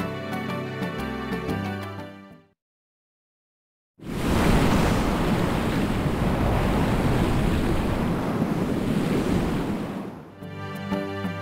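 A giant whirlpool in the video game Inazuma Eleven 2 gives off a loud, steady roar of churning ocean water that lasts several seconds. It follows a brief silence and is framed by game music before and after.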